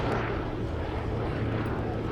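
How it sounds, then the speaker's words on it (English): A Westland Lysander, a vintage aeroplane, flies at the Shuttleworth Fly Navy Airshow 2022, its engine a steady, loud droning roar with no break across the moment. "The Westland Lysander"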